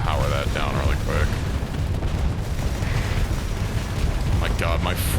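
Missiles and explosions rumble continuously in a video game, a dense, loud bed of booming bursts with voices talking over it at the start and end.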